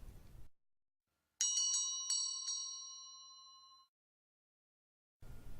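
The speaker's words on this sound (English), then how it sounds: "the soft sound of clinking and ringing" Several small bells by graves are struck in a quick cluster, each ringing tone hanging and slowly fading, clear and close in an otherwise silent space.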